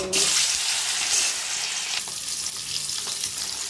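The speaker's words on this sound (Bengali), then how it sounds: "তেল গরম হয়ে গেছে, মাছগুলোকে একটা একটা করে কড়াইতে দিয়ে দেব।" Loud, continuous sizzling of frying in hot oil, crackling up sharply at first and then holding a steady hiss, close up with no talking.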